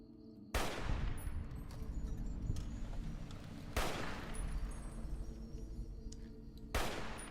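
Gunfire in Fallout New Vegas: three sharp, loud shots spaced a few seconds apart, each ringing out with a long rumbling echo over a quiet background.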